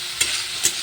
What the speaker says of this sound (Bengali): ভালো করে নেড়ে চেড়ে কষিয়ে নেবো আলুগুলোকে।